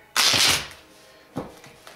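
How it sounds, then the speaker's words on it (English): Tarot cards being shuffled, a loud crisp riffle burst up close followed by two shorter, softer shuffles, with no talk. "I'm going to first start with shuffling your cards"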